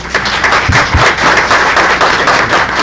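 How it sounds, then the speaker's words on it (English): An audience at a Johnson City Board of Commissioners meeting breaks into loud, close clapping, a dense burst of hands with a few sharper slaps standing out, lasting a few seconds. "Let's give them a round of applause."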